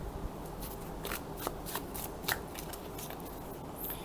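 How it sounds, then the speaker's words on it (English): Linen-finish Terra Volatile tarot deck being riffle shuffled, a quiet run of soft card flicks and ruffles ending in a brief bridge-like patter, close up with no talking. "Let's try to give it a riffle shuffle."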